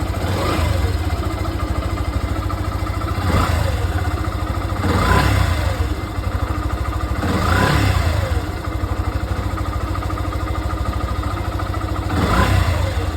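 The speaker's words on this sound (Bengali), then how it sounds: "এটা দেখো আমার বাইক কিন্তু স্টার্ট হয়ে গেছে" A Yamaha FZS motorcycle engine idles with a steady throb, revving up sharply four times at intervals before dropping back to idle.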